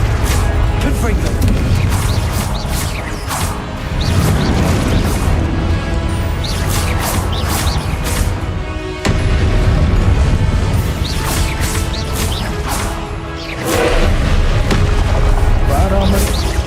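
Repeated Confringo blasting-spell explosions in the Hogwarts Legacy game, heavy booms and crashes in quick succession, loud and close, under a player's voice calling out spells.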